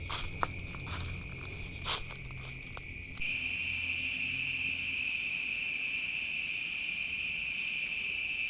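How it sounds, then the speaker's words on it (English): Crickets chirp at night in a forest at a campsite, two steady high-pitched trilling bands running continuously and evenly throughout, with a few faint rustles early on. "So many crickets."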